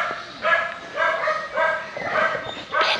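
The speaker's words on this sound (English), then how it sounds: "Plenty of dogs." Several dogs at a caravan and camping site bark and yip in short repeated bursts at middle distance, a scrappy exchange of barks with no talk over it.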